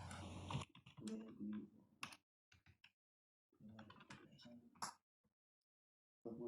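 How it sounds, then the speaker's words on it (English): Typing on a computer keyboard while entering a prompt into a spreadsheet, heard as short bursts of soft key clicks separated by pauses, with a voice talking faintly over parts of it. "Here I will type top 10 cities in the"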